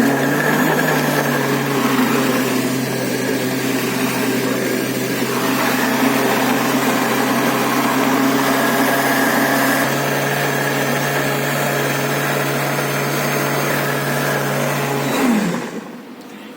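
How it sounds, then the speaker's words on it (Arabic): A blender mixing a banana milkshake with milk and ice cream whirs steadily at close range with a constant motor drone, then winds down and stops near the end. "هنغطي بقى وهنسيبه يتضرب في الخلاط لمدة 7 ثواني بس"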